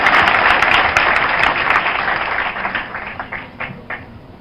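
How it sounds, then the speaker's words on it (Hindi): Loud, dense applause from a large crowd at a Indian political welcome event, sustained throughout and gradually thinning toward the end with a few scattered claps. "जोरदार तालियों से ये स्वागत।"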